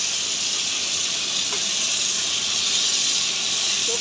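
Steady, close hiss and sizzle of pirandai, an edible vine stem, sautéing in a hot pan, a constant bright frying sound with no speech.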